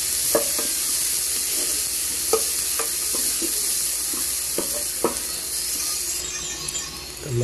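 Garlic and onion sauté in a pan for Ilocano-style pinakbet, giving a steady bright sizzle with occasional scrapes and clinks from stirring, close and continuous.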